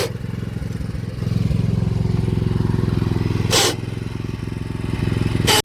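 A small power weeder engine runs steadily with a rough, chugging motorcycle-like drone, working in thick grass in a farm field; the note rises briefly as it loads, with two short bursts of higher noise.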